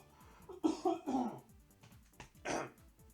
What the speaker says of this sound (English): I have to cough a bit.